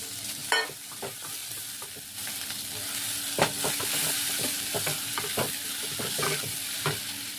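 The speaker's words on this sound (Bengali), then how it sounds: "মশলা আমার কষানো হয়েছে, এবার আলুটা দিয়ে দিচ্ছি।" Potatoes added to oil and a cooked-down spice paste, frying with a steady close sizzle punctuated by repeated scraping and clacking stirring strokes in the pan.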